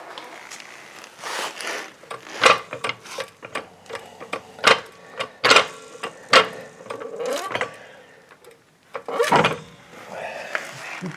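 A jack is cranked by hand under the front control arm of a 2004-2014 Ford F150 during a strut replacement, producing a run of close, regular ratcheting clicks and clacks with brief pauses between strokes.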